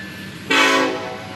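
A single strong blast from a Canadian National locomotive horn bursts in suddenly, holding a rich multi-tone chord up close before fading against low rail noise.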